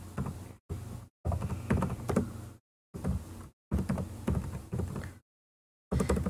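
Bursts of rapid keyboard typing with short pauses between them, close and fairly clear, with no voices.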